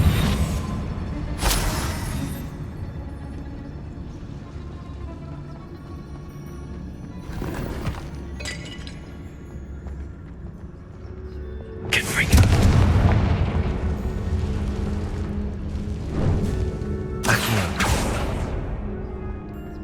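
Confringo blasting spell fired in the Hogwarts Legacy video game, several heavy booming blasts with crackling debris, one large explosion in the middle, over an ongoing bed of game noise and background talk.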